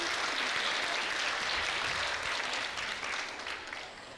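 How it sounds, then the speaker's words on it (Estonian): An audience at a youth mental health forum theatre event claps steadily, a broad, continuous wash of hand clapping that holds for several seconds and then gradually thins and softens toward the end. "Võite ühe aplausi ka neile teha enne,"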